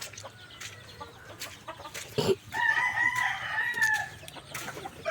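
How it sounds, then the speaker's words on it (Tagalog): Native chickens, Texas chickens and ducks on a small mini farm: soft clucking and scattered bird calls, then a loud rooster crow rising midway and holding for about two seconds, close by. "Ito, mga Texas, pato, native na manok."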